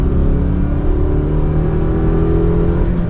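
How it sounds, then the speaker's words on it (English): A 2023 Subaru Crosstrek with a six-speed manual, fitted with a lift kit, revs and accelerates hard in second gear, its engine droning loud and steady close by with no talk. "we'll give it some gas from second gear"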